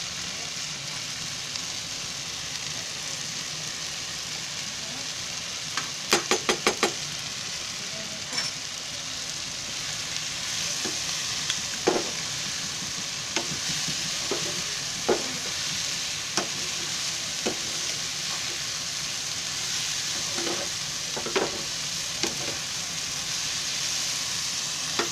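Crushed garlic and cumin hit hot oil in a pan for farsan chivda, giving a steady low sizzle broken by scattered sharp crackles and spits, with a brief cluster of pops early on and no talking.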